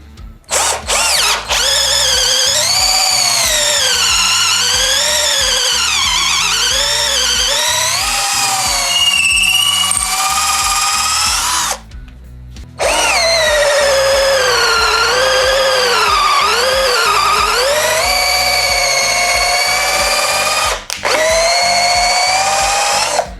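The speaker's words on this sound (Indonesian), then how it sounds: "Ada Auger BLITZ atau juga mata bor khusus untuk kayu ya," A BLITZ D62060 auger drill bit for wood bores into timber with a loud, whining power drill whose pitch rises and falls under load, broken by two short pauses.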